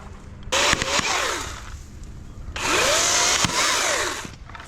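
A DeWALT battery electric chainsaw cuts through wood in two loud, sustained bursts, its motor whining up under load and then easing off, heard close with no talking.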